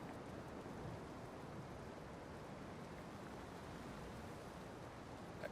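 Steady rain falls in The Caribou Trail video game, a dense, even hiss that holds at the same level throughout with no voices over it.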